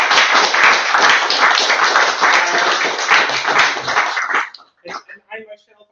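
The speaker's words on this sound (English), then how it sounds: "I would like to thank you with a big applause from all of you" An audience at a heritage lecture evening claps enthusiastically in dense, sustained applause for over four seconds, then it tapers into a few scattered final claps.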